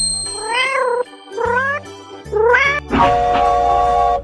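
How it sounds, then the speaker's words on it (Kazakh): A cat meowing three times in drawn-out, rising-then-falling calls, loud and close over soft background music, followed by a brighter chiming sound. "Мысық."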